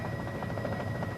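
A helicopter hovers over the 1983 Bathurst motorcycle race, its loud, steady rotor roar and engine drone filling the scene without letup.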